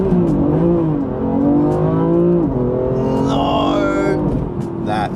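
A 600 bhp turbocharged BMW M4 accelerates hard with wheel spin, its loud engine note rising and dipping through gear changes, up close, with a higher whine and squeal joining partway through.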